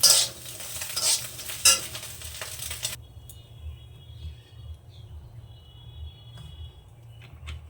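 Small fish fry in hot oil in a pan with a loud crackling sizzle for a few seconds, then the sound drops away to a faint low hum with light insect chirps in the background.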